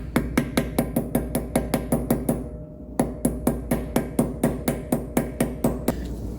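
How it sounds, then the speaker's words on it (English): A dust cap is tapped onto a greased wheel hub of a 1973 Dodge Dart during a suspension rebuild. There are about thirty sharp, evenly spaced metallic taps, close and clear, with a short pause partway through. "We'll just gently tap that into place."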